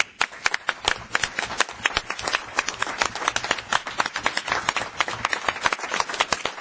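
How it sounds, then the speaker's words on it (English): A round of applause at a railroad committee board meeting, many distinct hand claps from a modest group, fairly close and sustained without talk. "I'll give you a round of applause"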